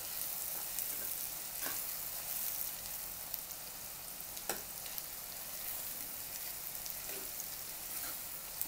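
Chopped onions fry in a pan for a dry raw jackfruit dish, giving a steady, close sizzling hiss throughout, with a few soft stirring clicks and no voices.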